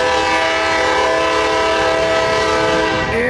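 A southbound CSX double-stack intermodal container train passes Butler Street in Hamlin, sounding a loud, sustained horn blast up close. Rail noise rumbles beneath the horn.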